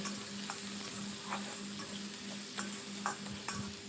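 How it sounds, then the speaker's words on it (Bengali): Onions fry in oil in a wok, leaving a steady background sizzle, while light scrapes and taps of a spatula click in an irregular rhythm over a faint low hum. "এখন কড়াইতে আমি দিয়ে দিলাম পেঁয়াজ"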